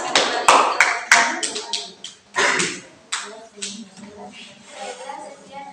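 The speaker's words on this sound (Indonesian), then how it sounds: "Kita beri tepuk tangan kembali." Classroom clapping for a student group after a presentation, several sharp claps at first, then a couple of short rounds of hand-clapping, with voices talking in between.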